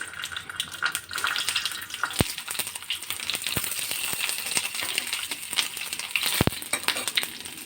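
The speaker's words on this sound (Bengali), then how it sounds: "আমি গ্যাসটা একদম কম করে উচ্ছেগুলো ভেজে নেব।" Bitter gourd fries in mustard oil over low heat, a steady close crackling sizzle with occasional sharp pops and light stirring rattles throughout.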